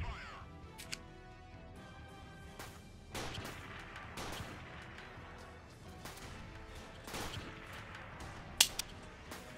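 Sniper rifle fire in the video game Freeman: Guerrilla Warfare, with a few sharp cracking shots spaced irregularly over faint background game noise, one louder crack near the end.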